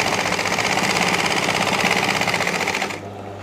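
A sewing machine running continuously as it stitches a blouse with a reverse stitch, a fast even mechanical whirr and needle rattle up close, then it stops and leaves a low hum.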